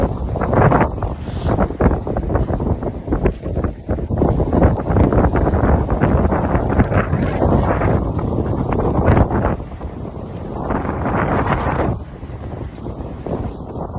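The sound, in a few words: strong wind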